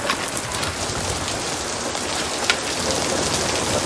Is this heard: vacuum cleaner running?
no